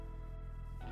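A cat meows in the Minecraft modpack SevTech Ages, sounding as a single loud, sustained call with a rising tone near the end.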